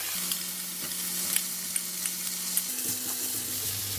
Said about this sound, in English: Continue stir fry until the vegetable is cooked